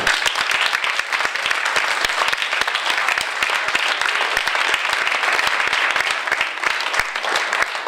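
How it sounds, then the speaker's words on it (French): Guests at a wedding reception break into steady, loud applause, dense hand-clapping that continues evenly for several seconds with no talk over it. "Je vous demande de les applaudir tous."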